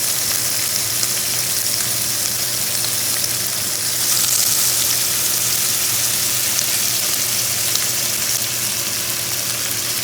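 A butter mix with thyme and garlic sizzles and fries in a hot pan around a New York strip steak, a loud, steady close crackle that swells slightly midway, with no talking.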